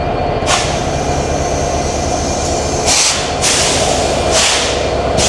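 A new 66-series locomotive hauling the Madhumati Express on the Rajshahi route gives a loud, close, steady rumble with bursts of hissing noise. No voices are heard.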